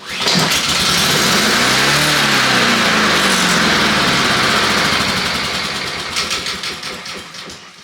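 A Honda lawnmower engine catches after a pull of the starter cord, sputtering up into a loud, steady running roar close by, then settling and easing slightly toward idle.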